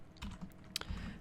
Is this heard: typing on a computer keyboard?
yes